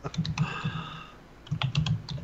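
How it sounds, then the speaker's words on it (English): Computer keyboard typing in quick, light bursts of clicking keys, two clusters separated by a short pause, close and fairly quiet. "I'm typing in Beam."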